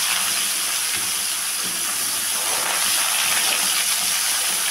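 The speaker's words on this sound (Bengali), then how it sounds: "কালো জিরে আর মেথি দিয়ে দিলাম কেটে রাখা বেগুনটা।" Cut eggplant sizzles loudly and steadily in hot oil tempered with fenugreek and nigella seeds, a dense continuous frying hiss close by with no speech.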